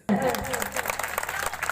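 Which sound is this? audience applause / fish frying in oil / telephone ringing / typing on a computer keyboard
audience applause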